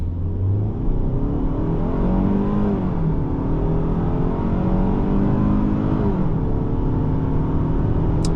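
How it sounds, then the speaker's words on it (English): A 2024 Hyundai Sonata SEL in Sport mode accelerating hard from 0 to 60, heard from inside the cabin. The engine drone is loud and steady and climbs through rising pitch sweeps as it shifts up, with no talking. "time to do the first 0 to 60 test. We are in Sport."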